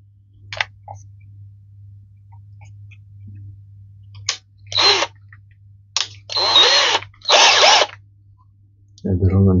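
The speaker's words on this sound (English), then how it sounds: "let's take a thicker drill" A power drill bores a larger hole in a butane culinary torch, running in several short bursts of a few seconds each with pauses between them, close and moderately loud, and a voice is heard briefly at the end.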